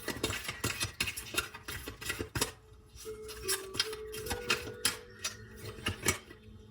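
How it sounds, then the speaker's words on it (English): Tarot cards are shuffled close by, giving a run of rapid papery clicks and riffles with irregular pauses and a quieter stretch partway through, and no talking. "I'm gonna shuffle."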